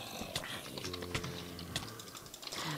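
Typing on a computer keyboard during a Minecraft session, a quick, close run of light plastic key clicks and taps clattering irregularly with no talk.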